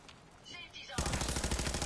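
Gun in Fallout 4 emptying a whole magazine, a sudden loud burst of rapid automatic fire that starts abruptly after a short stretch of quieter sound and continues to the end.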